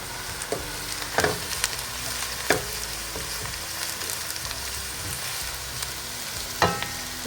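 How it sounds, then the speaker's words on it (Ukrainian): Carrots and onion sizzle steadily in a pan, with occasional clacks of a utensil stirring them; no talking. "Висипаємо моркву. Підсмажуємо. Перемішуємо."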